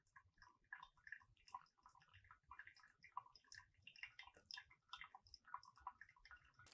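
Coffee drains through a Hario V60 pour-over filter, heard as faint, sparse drips and soft ticks scattered irregularly in near silence.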